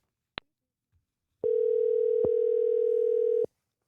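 Telephone tone while placing a call: a short click, then a single steady electronic tone held about two seconds with faint clicks, clear and close with no talking.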